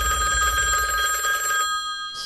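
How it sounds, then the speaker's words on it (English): A telephone rings from a scene in the 1994 film New Nightmare, a loud steady electronic bell tone sustained for about two seconds before fading, with no talking over it. "Oh, answer the phone."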